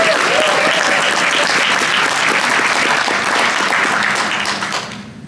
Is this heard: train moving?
no